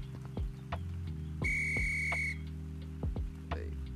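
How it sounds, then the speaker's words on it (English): A steady, shrill electronic whistle tone sounds for about a second in Gorilla Tag, set against a looping game soundtrack with brief plucky effects. "And we got a whistle."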